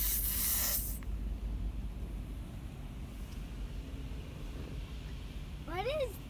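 Rinse spray at an automatic car wash opens with a loud, rushing blast for about a second, then drops to a low mechanical rumble, with faint voices and a brief rising vocal squeal near the end.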